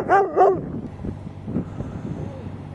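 A couple of short, high dog yips or barks up close, followed by quieter snuffling and rustling.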